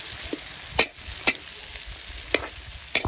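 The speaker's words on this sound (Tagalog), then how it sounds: "So, ilagay na po natin yung repolyo natin guys." Cabbage is stirred in a pan of sizzling butter: a soft continuous fry hiss with several sharp, close spatula scrapes and knocks at irregular intervals.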